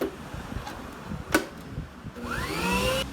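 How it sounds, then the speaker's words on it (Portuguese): An electric stand mixer beats cake batter for a Brazilian bolo de rolo, giving a steady close motor whir that rises into a higher whine near the end. "E agora a gente coloca aqui na batedeira para dar mais uma batidinha"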